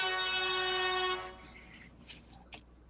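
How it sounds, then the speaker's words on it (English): A loud, sustained multi-tone air horn blast holds steady for about a second, then cuts off, leaving faint background noise and a few small knocks. "I love those air horns."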